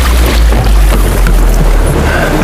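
Loud, rough rushing of ocean water surging against a small boat as the tide turns, heavy low wind-blown buffeting throughout with splashy bursts.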